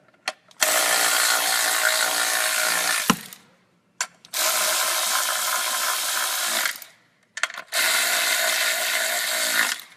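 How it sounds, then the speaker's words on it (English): Bolts on a McLeod clutch install in a 2003 Mustang GT are run down with a ratchet: three long, loud bursts of steady clicking, each a couple of seconds, separated by short pauses with small knocks between. "keep it pressed firmly in there and centered while you just run the bolts down"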